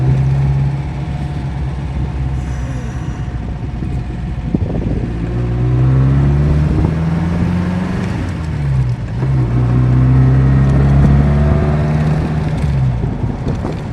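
An MGB sports car drives on a loop around an airport, its engine droning steadily and rising and falling in pitch as the gears are shifted. The sound is close and continuous, with no speech.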